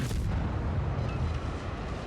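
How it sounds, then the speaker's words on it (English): A torpedo strikes a warship in World of Warships, and the hit lands as a deep rumbling explosion that rolls on continuously for about two seconds. "Oh, I got one torpedo hit."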